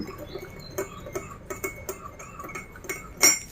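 A metal spoon stirs sugar into a cup of drip coffee, giving a run of light, irregular clinks against the cup, close and fairly quiet, with a sharper ring near the end.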